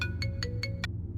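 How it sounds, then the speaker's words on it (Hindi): A mobile phone rings with five quick, evenly spaced electronic tones over a low steady hum, clear and close. "मेरा फोन।"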